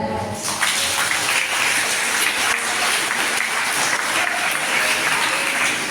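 A sustained round of applause at a farewell for Sister Lina, principal of St. John Bosco girls' school in Sohra, honouring her and the teachers; dense, even clapping from a large audience, rising quickly and holding steady.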